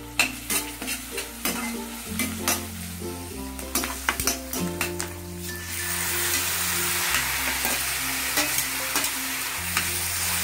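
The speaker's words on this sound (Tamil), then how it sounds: "வெங்காயம் பூண்டு வதங்குது" Onion, garlic and tomato sautéing in a pan, with close spoon knocks and scrapes against the pan over a steady frying hiss that swells louder midway; no one speaks.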